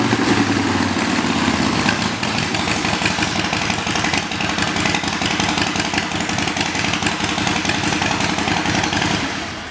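A 2015 Harley-Davidson Sportster Forty-Eight with a 1200cc engine runs loud and close, a steady throbbing idle that trails off slightly at the very end.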